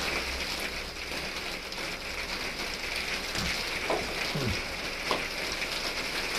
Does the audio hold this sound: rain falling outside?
yes